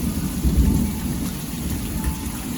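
Heavy rain pours down steadily with a low rumble of thunder rolling underneath, close and loud, with no voices.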